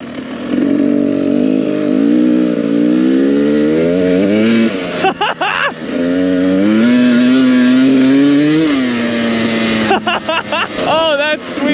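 A Kawasaki KLX dirt bike's engine drones steadily and rises and falls in pitch as it revs during a ride, loud and close throughout, with excited shouting over it.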